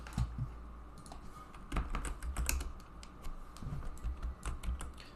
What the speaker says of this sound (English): it's easier to just type the values here in scale